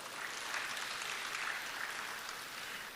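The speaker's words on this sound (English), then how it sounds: "please let's give them a round of applause" A climate change summit audience applauds steadily throughout, a dense, even wash of clapping heard from a moderate distance without any voices.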